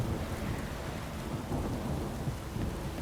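Steady rainfall with a low rumbling roll of thunder in The Witcher 3 game world, a constant dense wash of rain throughout with no voices.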